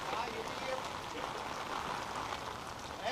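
Heavy monsoon rain pours down in Jaipur, a steady, dense hiss of rain on surfaces that stays even and continuous throughout, fairly soft and with no break.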